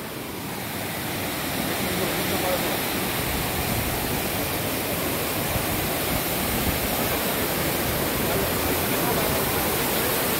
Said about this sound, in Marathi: हा धबधबा, हा सुंदर असा धबधबा